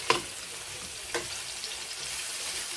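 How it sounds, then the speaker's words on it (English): Onions sizzle in a pan as they begin caramelizing for smothered pork chops, a soft continuous hiss with a couple of sharp stirring clacks. "we are going to caramelize these onions"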